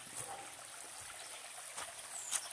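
Clean stream water flows steadily at Engenho do Nono in Gaspar, Santa Catarina, a soft continuous trickle and gurgle close by, with no talking.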